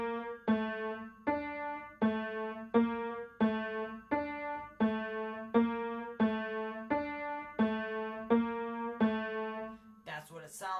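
A piano plays the CM Punk WWE theme, a steady repeating pattern of plucked notes in an even rhythm, moderately quiet and close, with a brief noisy burst at the very end.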